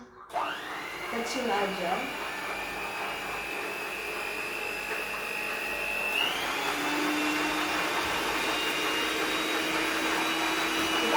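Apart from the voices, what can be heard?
electric mixer beating banana cake batter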